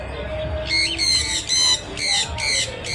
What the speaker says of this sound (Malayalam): കിളികളുടെ ശബ്ദം മാത്രമേ കേൾക്കുള്ളൂ.